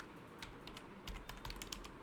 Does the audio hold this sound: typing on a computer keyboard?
yes